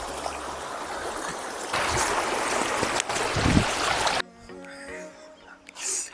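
Clear stream water rushes steadily and loudly close by near Manjarabad Fort in Chikmagalur, a dense broadband wash that drops abruptly near the end to a quieter trickle with some splashing.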